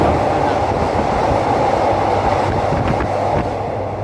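Passenger train riding into Bang Sue station in Bangkok, heard from on board as a steady loud rumble of wheels and carriage noise with faint rhythmic clacks, continuous throughout.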